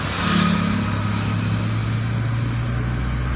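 A car's engine drones steadily and close, building slightly as it pulls away in a lower gear during a driving lesson, with a strong low hum under a broad road and wind noise and no talking.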